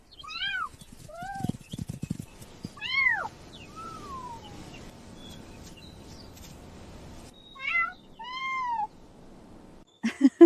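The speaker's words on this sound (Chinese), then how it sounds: "他们是当年大猫生下的那2只小猫崽儿" Young kittens, offspring of a large cat, give a run of high, rising and falling meows, several in quick succession over soft rustling and shuffling, with a last burst of cries close by at the end.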